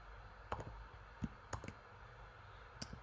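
Sparse, quiet clicks of computer keys while code is typed, a few separate taps spaced irregularly over faint room hiss.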